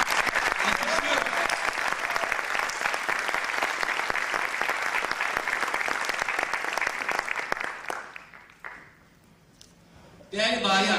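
An audience at a dealers' gathering applauds loudly and continuously for about eight seconds, then the clapping dies away into near silence before a voice begins to speak.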